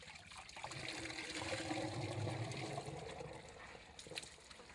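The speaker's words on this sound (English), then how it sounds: "The liquid is then released into the main chamber." Biogas slurry released into a plant's main digester chamber, a soft continuous rush and trickle of liquid that swells slightly and then eases, no one talking.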